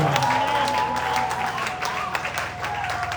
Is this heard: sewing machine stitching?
no